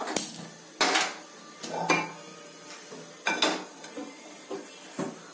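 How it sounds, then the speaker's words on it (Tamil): A metal kadai set down on a stove at the start of a Tamil-style mushroom gravy, giving several sharp clanks and clatters spaced out over a few seconds, close by, with no talking. "இப்ப ஃபர்ஸ்ட் ஸ்டவ் ஆன் பண்ணி கடாய் வச்சிடலாம்"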